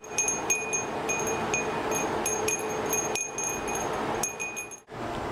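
A handmade glass wind chime (fūrin) from a glass workshop in Nankoku, Kōchi, rings in repeated bright, clear strikes with sustained high tones over a steady background hiss, several chimes in irregular succession.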